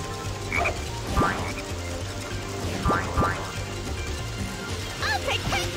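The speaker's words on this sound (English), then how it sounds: "There's a frog over there." Croaking frog in the Sonic Heroes video game, a few short croaks scattered through busy game music and effects, with brief talk from characters.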